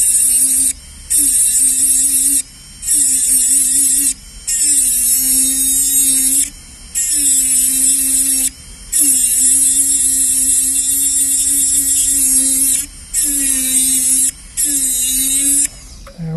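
Rotary tool fitted with a sandpaper disc refining a cast silver pendant, a high whirring buzz that runs in repeated bursts of a second or two with brief pauses between, close and loud, no talk.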